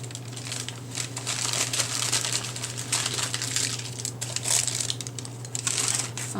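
Waxed paper is handled and crinkled while wrapping hard book covers for stab binding. The close, steady rustling and crackling continues throughout, with no speech.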